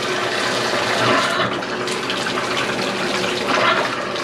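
Steady rush of water running from a Moen Pos-Temp faucet, continuous and fairly close, with no talking.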